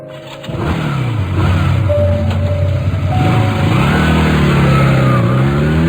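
A motorbike engine starts and revs through a ride home with a passenger riding pillion, the mid-pitched motor rising and falling steadily up close with no talk.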